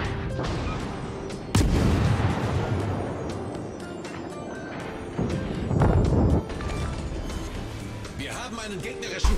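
Naval guns boom repeatedly in a World of Warships battle, heavy blasts landing at intervals amid a constant rumbling game ambience, with someone talking over parts of it.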